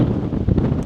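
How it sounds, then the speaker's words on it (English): Strong wind buffets the microphone at the Pinnacle Overlook in Cumberland Gap, a steady low roaring rumble with gusty swells and no speech. "It wasn't this windy when we got up here."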